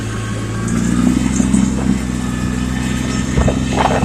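A tractor engine runs at full speed through snow, a loud, steady mechanical drone with continuous low hum and brief clanks, heard alone without talk.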